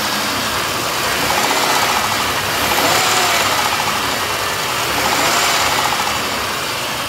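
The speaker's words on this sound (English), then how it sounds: "Man, these engines are noisy." A new crate motor in a van runs steadily and loud up close, a rough mechanical idle with a dense, tapping, rattly texture and a gentle rise and fall in level, with no voices over it.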